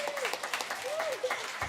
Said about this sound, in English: please give a huge applause to my beloved husband